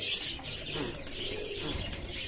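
Pigeons coo softly nearby in a loft, with light chirps and a brief flutter of wings; the sounds are quiet and continuous.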